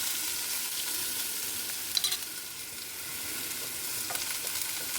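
Ginger-garlic paste hits hot oil in a frying pan with a steady, close sizzle and crackle, with a couple of stirring scrapes around the second mark and again near the end; nobody speaks.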